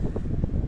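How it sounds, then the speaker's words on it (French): Wind blowing outdoors in Paris, a steady low rumbling buffet with gusty fluctuations, loud and continuous with no other clear sounds. "Il y a du bruit, il y a du vent,"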